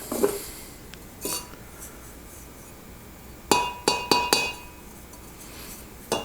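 A few bright ringing taps on bisque-fired pottery, some single and a quick cluster of four, each leaving a short clear resonance over quiet room noise.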